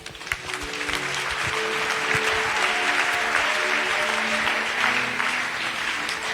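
A church congregation claps and cheers together at a worship service, a dense and steady burst of applause that fills the whole stretch with crowd voices mixed in.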